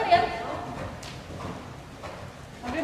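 A ridden horse cantering in a riding stable gives a steady run of soft hoofbeats close by, mixed with a voice in the background.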